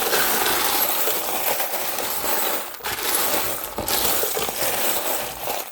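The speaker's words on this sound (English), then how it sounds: "there will be a little bit of rattling here" Small metal charms rattle and clink steadily together as they are shaken and pulled, a busy jingling that runs through the whole stretch with a couple of brief pauses.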